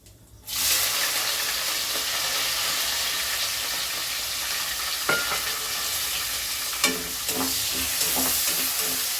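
Onion, green chillies and curry leaves frying in hot oil for a vegetable soya pulao, a loud steady sizzle that bursts on suddenly and runs throughout, with a few sharp crackles and stirring clatters toward the end.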